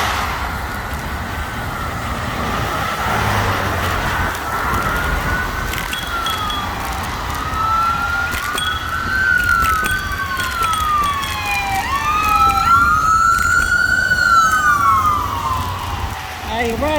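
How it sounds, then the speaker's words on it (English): Emergency vehicle sirens wail through city traffic, rising and falling in overlapping sweeps that grow louder toward the end, heard from a moving scooter amid road rumble and wind. "sirens."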